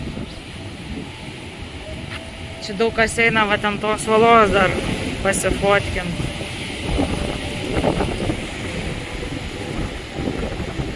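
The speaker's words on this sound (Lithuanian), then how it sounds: "labai didelis vėjas" Strong wind gusting outdoors at a tourist spot, a steady rushing roar buffeting the microphone throughout while a person talks over it.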